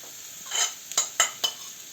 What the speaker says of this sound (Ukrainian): Я буду смажити бурячок.